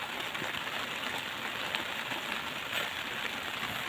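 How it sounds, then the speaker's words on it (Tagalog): Steady rain pours onto a plastic roof in a rural Philippine home, a dense even hiss of many drops with no distinct pauses, fairly close and continuous. "Umuulan siya guys."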